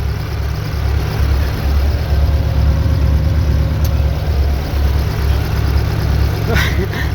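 A YuMZ tractor engine idles steadily and loudly close by during a group tractor pull, a continuous low rumble with faint voices in the background.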